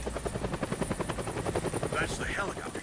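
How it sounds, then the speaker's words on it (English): Helicopter in the video game Deadlight, a steady loud rotor thrum running throughout with a rhythmic chopping pulse and other game sounds layered on top. "That's the helicopter chasing my friends."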